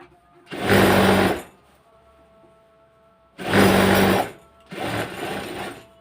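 A sewing machine stitches a double seam on a pair of pants in three loud, close bursts of fast buzzing needle chatter, the first two longer, separated by quiet pauses.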